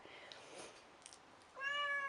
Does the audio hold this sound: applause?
no